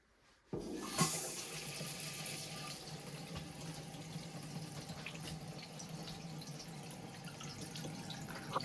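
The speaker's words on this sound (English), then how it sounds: "It may make a little air noise, a squeak of the water, or of the air coming out of the fill valve, but that's normal." A Glacier Bay Power Flush toilet tank refills through its fill valve once the water supply is turned on: a sudden rush that settles into a steady, close hiss of flowing water, with no voices.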